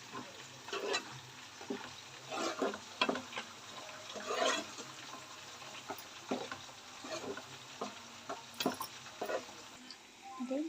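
Ginger garlic paste fries in oil in a pan, a soft steady sizzle broken by repeated scraping stirs of a spoon against the pan, close and fairly quiet.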